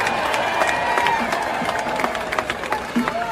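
Crowd applause and cheering after an outdoor concert by a band, a broad roar of clapping with scattered whoops and shouts, fairly loud and sustained throughout.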